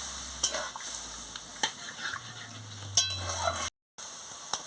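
Ivy gourd and potato curry stirred in a pan, soft sizzling under sparse spoon clinks and scrapes against the pan, fairly quiet, with a brief cut to silence near the end.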